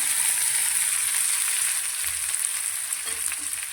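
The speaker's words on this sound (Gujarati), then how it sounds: "આ ભાજીને આપણે તેલની અંદર 2 થી 3 મિનિટ માટે સાતળી લઈશું" Fresh fenugreek leaves (methi) sauté in oil in a kadhai, giving a loud, even, continuous hiss of frying close by with no break.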